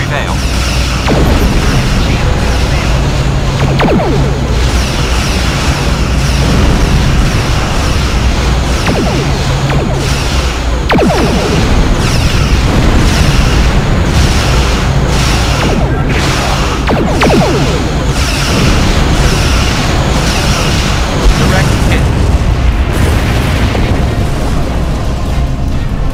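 Starship weapons firing and explosions hitting a Borg sphere in a Star Trek space combat game: continuous loud booming blasts, whooshes and sharp impacts recurring every few seconds, with speech over the din.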